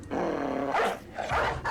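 A dog in the medieval video game Battle Brothers growls and snarls in short, rough bursts, loud and close, with brief pauses between the rumbling snarls and no talking over them.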